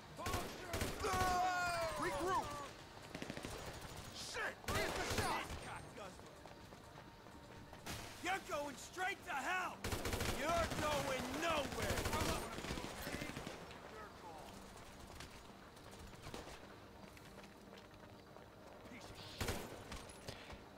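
Rapid bursts of gunfire from a Grand Theft Auto Online shootout, sharp repeated volleys mixed with game voices and busy background noise.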